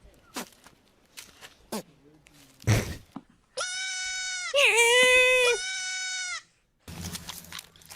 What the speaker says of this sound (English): Have you ever heard of screaming goat?